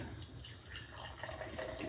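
Beer pours into a glass up close, a soft gurgling trickle with small drips and bubbling fizz, steady and fairly quiet with no talking.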